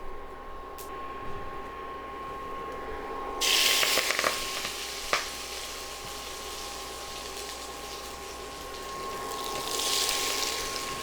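Crushed ingredients dropped into hot oil with mustard seeds and curry leaves for a smelt stir fry, giving a sudden rise in sizzling that settles into a steady, fairly loud fry with a faint tone underneath.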